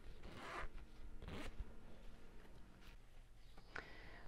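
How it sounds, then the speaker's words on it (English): A zip on a sewn fabric circle pouch is pulled open in a few quick, close rasping strokes, each a short bright zzzip separated by quiet handling. "So I'm going to open up the zip now because I think that's going to make it easier."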